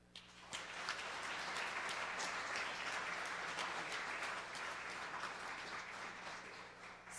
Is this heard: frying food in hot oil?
no